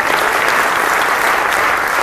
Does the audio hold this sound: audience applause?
yes